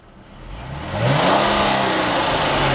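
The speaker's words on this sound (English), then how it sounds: "Let's go ahead and listen to the motor for a minute and see how it sounds." Base V6 Dodge Challenger engine revs up from idle, rising steadily to a loud, sustained high-rpm roar heard up close, mostly engine noise with little exhaust note.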